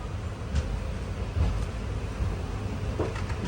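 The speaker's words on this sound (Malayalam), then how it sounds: "തൃശ്ശൂരിനെ ലക്ഷ്യമാക്കിക്കൊണ്ട് നമ്മുടെ വണ്ടി ഇതാ കുതിക്കാൻ വേണ്ടി പോവുകയാണ്." An express train pulls away from Guruvayur station bound for Thrissur, a steady low rumble with occasional clunks and jolts of the carriages, fairly even and close, with no talking.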